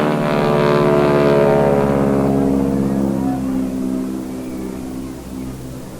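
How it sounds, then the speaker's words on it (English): An aerobatic propeller airplane at an airshow, its engine cutting out during a slow roll: a loud buzzing drone fades and thins away over several seconds, leaving a lower residual rumble. "That sound you heard was just the engine quitting."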